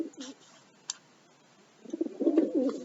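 A pigeon coos close by, a soft low throaty call that swells near the end after a brief click and a quiet pause.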